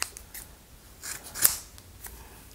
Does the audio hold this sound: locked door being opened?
no